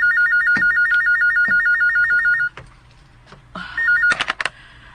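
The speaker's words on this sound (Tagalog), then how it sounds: "Ang telepono." A warbling electronic phone ring trills repeatedly, stops, then briefly starts again before a few sharp clicks.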